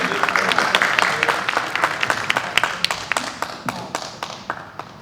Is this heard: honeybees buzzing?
no